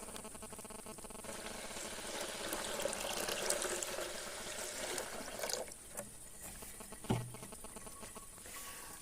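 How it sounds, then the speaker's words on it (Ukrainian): Water pours through a mesh-lidded jar to rinse carrot seeds, a steady broadband rush for about five seconds that then thins to a quieter trickle with a brief splash near the end. "Водичка ну, досить довго промивається, проливається."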